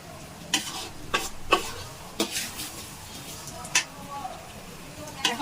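Fish roe frying in oil, with a steady sizzle under repeated sharp scrapes and stirs of a utensil against the pan, several distinct clattering strokes spread across the clip.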